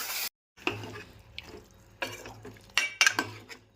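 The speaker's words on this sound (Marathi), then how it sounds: "असं परतून घ्यायचं थोडा 2-4 मिनिटं." Chicken being stirred and sautéed in a pot with turmeric, salt and onion, heard as scattered scraping and clinking of a spoon against metal over a faint sizzle, close and fairly quiet.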